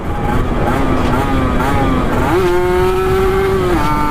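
A Kawasaki 150 motorcycle engine revs hard and accelerates, its steady loud drone climbing in pitch, briefly dropping at a gear change, then rising again and holding.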